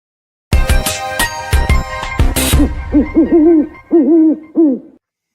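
Owl hoots used as a sound effect for the Florida Atlantic Owls football team, a series of loud, close, wavering hoots following a burst of bright ringing tones at the start.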